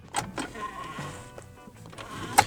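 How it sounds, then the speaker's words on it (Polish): Sliding ashtray in a Saab 9-3 car interior, a few faint plastic clicks and a soft sliding rub heard close in a quiet cabin, with a sharp click near the end. "Tu mamy popielniczkę, która się odsuwa."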